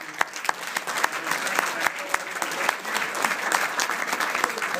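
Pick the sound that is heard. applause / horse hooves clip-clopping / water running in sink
applause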